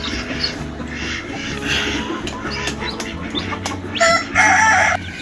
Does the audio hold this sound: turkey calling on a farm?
yes